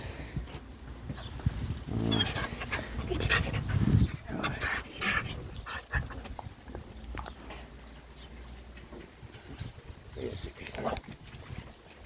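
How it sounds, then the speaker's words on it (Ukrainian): Dogs greet someone in the rain at a rural yard, with panting, snuffling and paw scuffles close by, mixed with footsteps and occasional talk. "А оце мене зустрічають песики."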